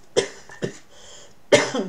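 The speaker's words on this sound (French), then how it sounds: "Et puis voilà, maintenant je tousse." Three sharp coughs from one person indoors, two close together and a third after a short pause, each a loud, broad burst with quieter breathy tails.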